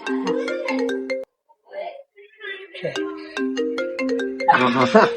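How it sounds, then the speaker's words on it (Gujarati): A loud, near phone ringtone plays a bright melodic tune in two bursts separated by a short pause, and a voice cuts in near the end. "હવે મારા કાળિયા નો ફોન ઉપાડો"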